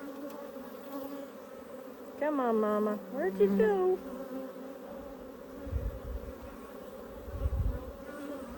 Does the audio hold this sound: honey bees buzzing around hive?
yes